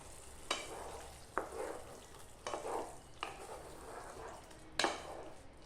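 Curry leaves sizzling in hot oil while a pumpkin curry is stirred in a pan, soft frying hiss broken by several distinct scraping strokes of a spoon, close and fairly quiet.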